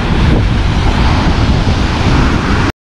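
Steady roar of sea waves and strong wind at a beach on a fishing coast, with heavy broadband rumble and wind buffeting the microphone throughout, loud and continuous before cutting off abruptly.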